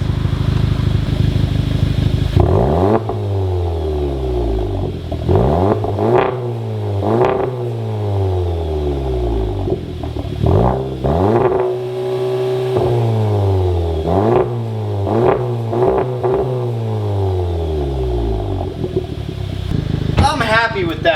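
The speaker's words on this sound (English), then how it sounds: "Let me rev it up a couple times." A VW Golf R MK7 with a Nameless Performance catback exhaust, revved repeatedly while parked: a string of sharp throttle blips rising and falling, loud and close, with a short sustained rev near the middle.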